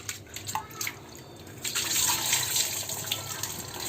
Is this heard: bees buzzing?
no